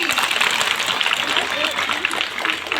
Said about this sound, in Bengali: সবার জন্য একটা জোরে করতালি